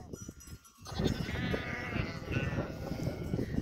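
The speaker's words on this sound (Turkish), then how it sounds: "bunlar keçilerimiz. Ve koyunlarımız." Sheep and goats on a farm bleat close by, with several overlapping calls. The calls carry on steadily after a brief quiet opening.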